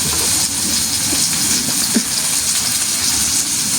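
Onions, with a tomato and salt, sizzle in a pan as they soften, giving a steady, close, continuous hiss with no one speaking.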